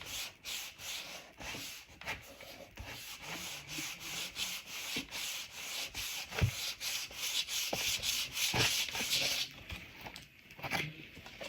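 A glued paper piece is rubbed down by hand with Mod Podge for a spring flower arrangement craft, giving a close, quiet scratchy rubbing in repeated short strokes with brief pauses.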